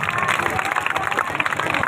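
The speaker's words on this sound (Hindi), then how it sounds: "भाई तालियों की कमी नहीं रहनी चाहिए।" A village audience at a women's empowerment gathering breaks into brisk, dense clapping, loud and close, with voices mixed in.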